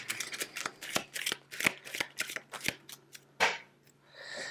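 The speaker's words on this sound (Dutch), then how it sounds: "Kaarten schudden dat doen we altijd op het gevoel." A tarot deck is shuffled by hand in a series of quick, crisp riffling and slapping bursts, close and clear, with a brief pause before a final softer shuffle.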